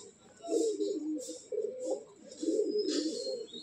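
A Madrasi pigeon at a loft gives a series of close, throaty coos in rising and falling rolls, repeated several times with brief pauses between them.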